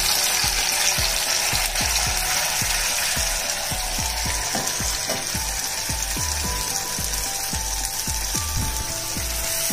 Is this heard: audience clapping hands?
no